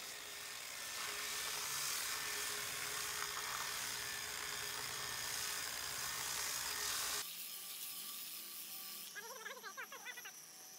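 Grinder polishing a concrete speaker cabinet kept wet with water, a loud steady whine running without a break for several seconds, then a sudden drop to a thinner, quieter tone.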